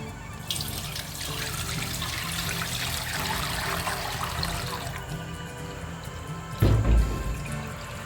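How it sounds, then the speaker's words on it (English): Meat stock pours and trickles through a sieve into a clean, dry pot, a steady watery stream running for several seconds, followed by a brief heavier splash and clatter near the end. "you would be sieving your meat stock or your biscuit bone stock into it"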